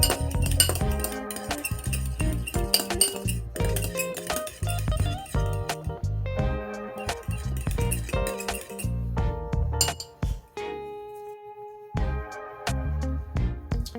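Butter, garlic powder and Italian seasoning mixed in a bowl with a utensil, a run of quick clinks and scrapes close by, briefly pausing before the stirring resumes, with no talking.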